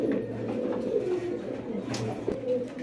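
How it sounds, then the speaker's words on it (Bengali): Pair of Pakistani teddy pigeons cooing close by, soft repeated low coos over a quiet, steady background. "একজোড়া পাকিস্তানি কবুতর"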